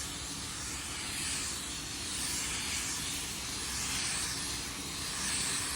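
A spray gun laying a drop coat of car paint in a DIY paint job, giving a steady, even hiss that holds for several seconds without pause or talk.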